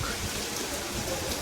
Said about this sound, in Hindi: इतनी ज़्यादा ज़ोरों की बारिश हो रही